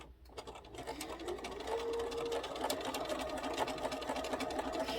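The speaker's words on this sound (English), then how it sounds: "now we're going to sew our 1/4 inch seam right down our block to the very end" A sewing machine runs a quarter-inch seam down a flying geese quilt block, its fast, even mechanical whir building from a brief start into a continuous close stitching drone.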